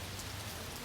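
Steady rain pours down on a dark, windy day, a dense even hiss of drops hitting surfaces, close and unbroken, with no voices.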